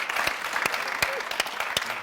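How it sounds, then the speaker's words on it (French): An audience at a televised entertainment show claps loudly and continuously, with a few sharper individual claps standing out close by. "vous allez l'applaudir très très fort"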